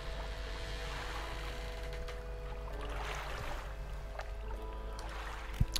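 A boat with a new motor cuts through water in the video game Dredge, giving a steady low engine hum under a soft, continuous wash of water.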